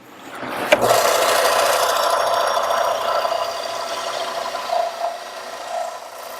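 A coarse rasp files a wooden pizza cutter in continuous, steady strokes, close and fairly loud, with a sharp knock near the start and no talking.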